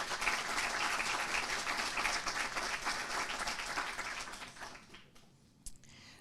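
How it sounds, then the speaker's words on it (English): Audience at the 2023 California Green Ribbon Schools awards ceremony applauds, a dense, steady patter of many hands that holds for several seconds, then fades out, leaving a few stray claps. "let's give them a round of applause."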